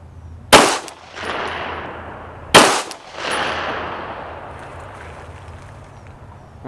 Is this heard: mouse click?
no